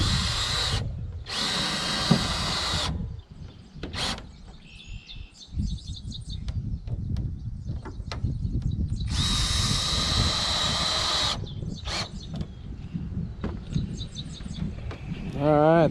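A power drill drives screws into a custom car hauler trailer deck in several loud, close whirring bursts with pauses between them, alongside birdsong and occasional talk.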